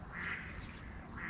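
Duck quacking near a trout street-fishing event in Evreux, two loud nasal quacks, one at the start and one at the end, with quieter background noise between them.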